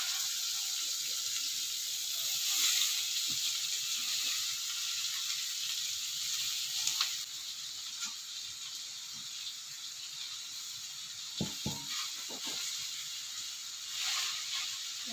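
Ingredients sizzle in a pan of popped mustard seeds over lowered heat, a soft steady hiss with faint crackling, a few clinks of a spoon against the pan, and no speech.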